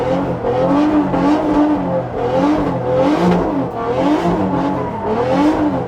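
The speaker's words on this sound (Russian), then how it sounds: "Газ, газ, газ, побольше, больше газа." A drift car's engine revs hard under increasing throttle, a loud, close, continuous roar that rises and falls in repeated surges as the throttle is pumped.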